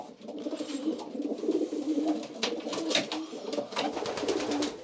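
Young racing pigeons coo steadily in a low, throaty murmur, several birds overlapping close by, with faint chirps and rustling mixed in throughout.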